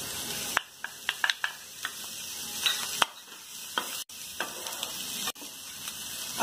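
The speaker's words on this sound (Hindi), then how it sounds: "प्याज को हमें बस हल्का सा ही फ्राई करना है।" Onion and capsicum frying in a pan for pav pizza, a bright continuous sizzle broken by repeated sharp spatula scrapes and knocks at irregular intervals, close and alone without speech.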